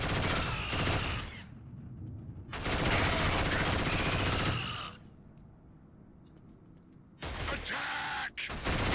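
Sustained machine gun fire in the shooter game Killzone comes in loud, long bursts separated by quieter pauses, with a final burst near the end.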